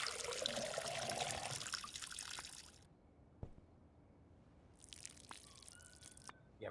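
Water pours and trickles onto plants in the game Schedule 1, a steady stream at first that cuts off, followed by quieter drips and a second brief burst of pouring.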